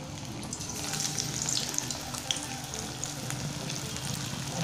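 Coriander and wheat flour vadas frying in hot oil over a medium-low flame, a steady close sizzle with fine crackling pops running unbroken throughout.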